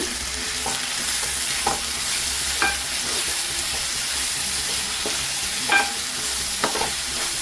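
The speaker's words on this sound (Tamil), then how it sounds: "தக்காளியை நல்லா வதக்கி எடுத்துக்கோங்க" Tomatoes sauté in a pan for chicken curry, giving a steady close sizzle with occasional scrapes and clicks of stirring and no voices.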